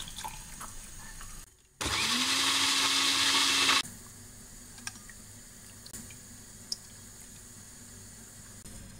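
A blender whirs loudly for about two seconds grinding pandan leaves, then cuts off, leaving faint background clicks and quiet room noise.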